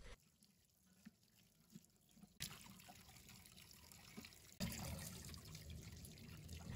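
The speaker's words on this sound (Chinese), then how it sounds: "用流水将它冲洗干净" Running tap water streams over a freshly scaled fish being rinsed clean, a steady splashing wash that grows louder and fuller in two abrupt steps, with no voices.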